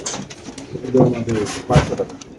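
Pigeons at a bird market coo in low, throaty bursts, close and fairly loud, mixed with market chatter and other bird calls.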